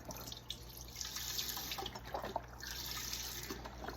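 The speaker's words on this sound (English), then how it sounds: "We're going to add all of the chicken stock." Chicken stock pours steadily into a pot, a soft continuous splashing and gurgling heard up close for a few seconds.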